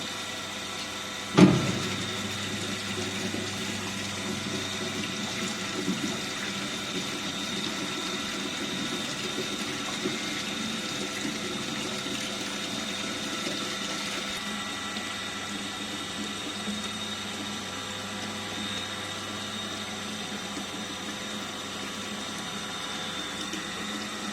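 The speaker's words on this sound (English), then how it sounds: "So we have to start collecting water in water tank." Water runs steadily into a tank on flow measurement equipment alongside a humming pump, after a brief clunk at the start; a constant, moderately quiet flow.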